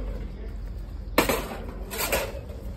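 Metal pot lid lifted off a pot of duck curry with potatoes, a sharp clank partway through followed by a second rattling scrape of the lid, set against quiet kitchen background.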